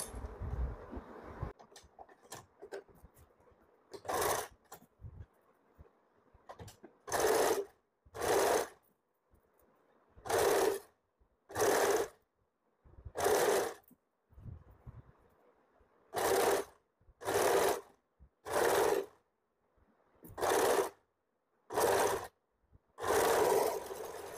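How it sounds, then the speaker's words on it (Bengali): Sewing machine stitching a sleeve onto an umbrella frock at the shoulder, running in a long series of short bursts separated by pauses, close and clear with no talk. "এবার মাঝখান থেকে সেলাই করব।"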